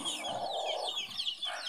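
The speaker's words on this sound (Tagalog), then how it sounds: "Ito naman yung mga bantam ko guys." Bantam chickens in a backyard flock cluck and chirp continuously in soft, overlapping calls close by, with no talking.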